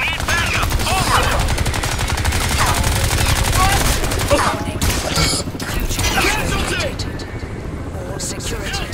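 Sustained automatic gunfire and battle noise in the shooter game Crysis 3, loud and continuous with a helicopter-like mechanical drone underneath, while soldiers shout over it.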